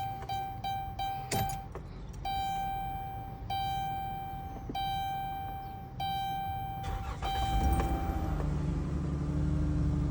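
A 2012 Chrysler Town & Country with a failing camshaft position sensor: a few dash chimes and clicks come first, then the starter cranks and the engine catches, settling into a low, steady idle near the end.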